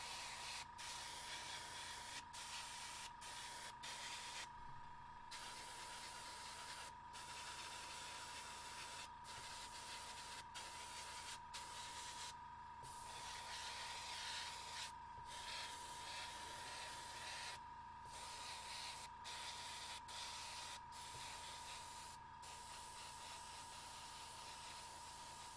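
An airbrush sprays red paint onto a model of a mechanicum ordinatus sagittar, giving a steady soft hiss broken by many brief pauses, close and continuous with no talking.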